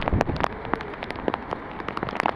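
Scattered drops of rain patter irregularly on a hard surface nearby in a residential area of Dhaka, light and uneven, with no talking.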